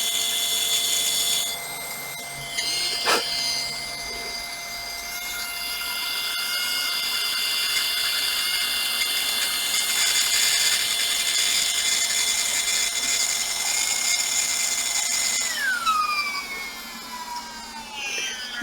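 A cordless drill turns a 0.6mm bit into wood for a model ship build, whining steadily at close range for long stretches, then winding down near the end.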